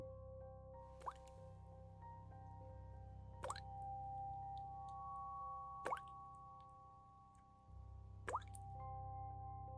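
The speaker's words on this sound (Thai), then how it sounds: "เขาสังเกตเห็นน้ำหยดจากเพดาน" Water drips from a ceiling in a quiet room, four distinct drops falling one at a time at slow, even intervals over a low, steady background hum.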